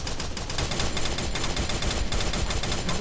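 Sustained video game gunfire, a dense and loud stream of rapid shots rattling without pause for the full few seconds.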